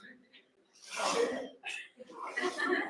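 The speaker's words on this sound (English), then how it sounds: "Quick sneeze." A single quick sneeze, a sharp breathy burst close to the listener, with short breaths and faint vocal sounds around it.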